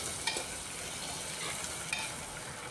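Chopped onion and whole garlic cloves frying in hot oil give a steady close sizzle, with a few soft scraping clicks as a spoon stirs them through the pan.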